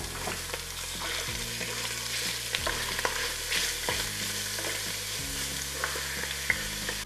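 Meat fries in a couple of spoonfuls of oil in a hot pot, a continuous sizzle broken by repeated stirring and scraping sounds at a moderate level, with no talk.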